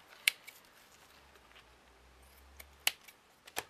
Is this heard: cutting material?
yes